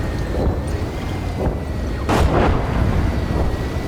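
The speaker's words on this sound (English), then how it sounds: "Ooh, this village is being hit by artillery." Artillery shelling a village in the tank game Gunner Heat PC, several muffled blasts, one louder burst near the middle, heard over a continuous low rumble of engine and wind noise, with no talking.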